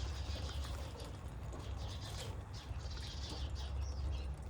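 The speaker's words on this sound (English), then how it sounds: "You can hear the birds in the back." Faint birds chirping outdoors in the distance, scattered high calls over a steady low rumble of wind or background noise.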